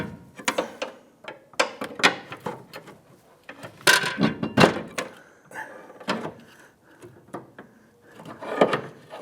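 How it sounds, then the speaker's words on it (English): Metal clanks and scraping knocks from a pry bar levering the rear upper control arm of a 2008-2013 Nissan Rogue into alignment, in irregular close bursts with short pauses between. "Now we're using our pry bar to go ahead and get this arm to line up again."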